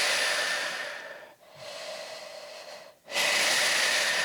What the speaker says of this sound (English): Big breath into your back. Exhale, belly to spine.